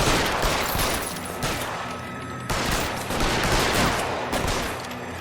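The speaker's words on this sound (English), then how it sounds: "He just got out of the car and started shooting." Dense, loud video-game gunfire rattles continuously in rapid bursts and volleys, close up and nearly unbroken, with no talk over it.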